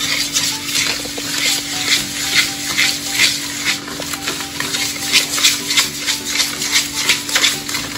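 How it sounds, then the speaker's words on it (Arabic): Rapid, steady scraping of a wire whisk against a bowl, beating eggs and sugar by hand, a brisk rhythmic beating that continues throughout with a faint background hum. "نضرب البيض مع السكر كويس."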